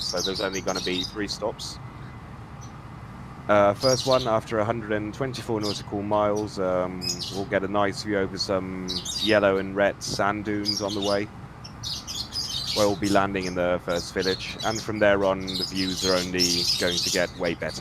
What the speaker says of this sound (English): My apologies for my screaming birds.